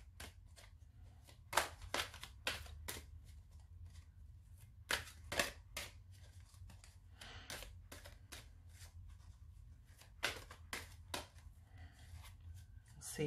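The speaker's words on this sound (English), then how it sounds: "So I'm just gonna shuffle the cards." Cards riffle and snap repeatedly in quick bursts, with soft shuffling between, close and fairly quiet.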